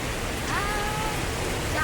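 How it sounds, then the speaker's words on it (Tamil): Heavy rain pours down steadily outside a shop on a hillside, a dense, even hiss that holds throughout, with faint voices and sounds under it. "மழை செம்ம மழை."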